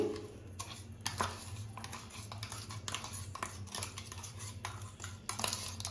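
Finely ground powder is scraped out of a grinder jar into a large vessel, giving repeated soft clinks, taps and scraping strokes of a spoon against metal, quiet and close.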